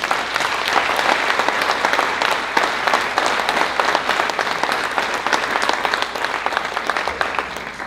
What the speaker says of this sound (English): let's give one more round of applause for our speakers.